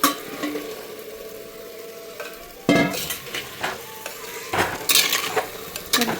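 Washed country chicken and liver sizzle in a hot clay pot for biryani, a close frying hiss with repeated stirring scrapes and clinks of a utensil against the pot, bursts rising and falling, no speech.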